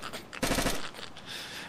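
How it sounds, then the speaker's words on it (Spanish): Gunfire in the video game DayZ: a quick burst of several rapid shots, loud and close, followed by a fading rumble. "Esos tiros fuiste tú, ¿verdad, Dimitri?"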